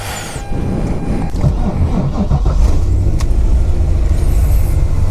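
A car engine hums steadily from inside the vehicle during a test drive, with low rumbling and road noise throughout, loud and close, with a few faint knocks and rattles.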